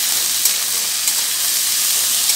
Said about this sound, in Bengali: এখন সমস্ত সবজিগুলোকে আবারও একসাথে ভেজে নিচ্ছি।